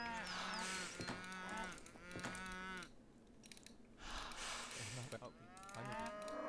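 Cows moo repeatedly in a video game, several long drawn-out calls overlapping in quick succession, then a pause before more lowing returns, fairly loud and alone.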